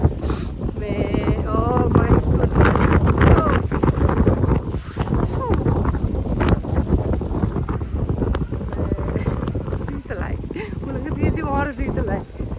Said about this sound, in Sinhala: හැබැයි හුළඟ තියෙනකොට තමයි ප්‍රශ්නේ